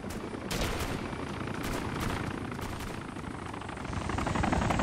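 Gunfire from the survival video game DayZ in a busy firefight, with repeated sharp shots and bursts over a constant loud rumble of helicopter-like noise and explosions throughout.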